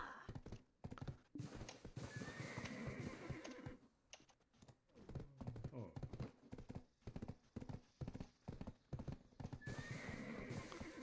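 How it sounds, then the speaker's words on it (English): Horse hooves clip-clop steadily in Black Desert Online, with a whinny or neigh breaking in, the in-game horse sounds loud and close with brief pauses between bursts of steps. "Stupid horse, unbelievable."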